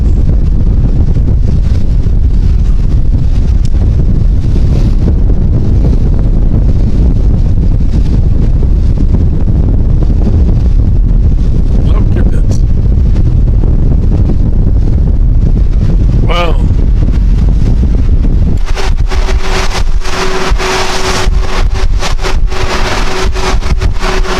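Strong wind blows across open water during a boat race, buffeting the microphone with a loud, constant roaring rush that continues throughout.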